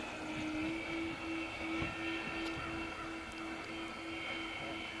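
An RC B-25 Mitchell WWII bomber model with a 2000 mm wingspan flies overhead, its engines giving a steady, continuous drone that holds for the whole stretch, heard from a moderate distance with no talking.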